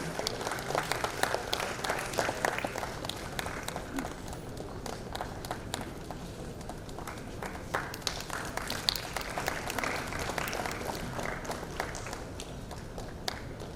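A convocation audience claps for a graduate at a management institute ceremony, a long sustained burst of many hands with sharp individual claps standing out, steady in level from start to finish.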